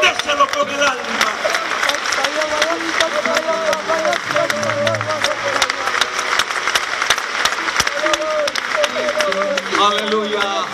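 Scattered clapping from a church congregation at a convention service, mixed with murmuring voices and background music, moderately loud and steady throughout.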